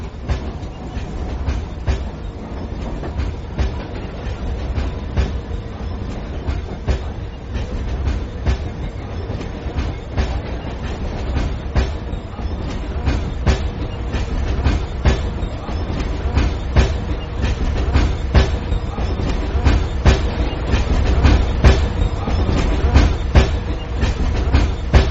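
A commuter train runs on rails with a loud, continuous rumble and rapid clickety-clack of wheels over track joints, heard from inside the carriage.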